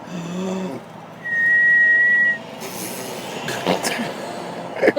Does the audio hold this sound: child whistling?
yes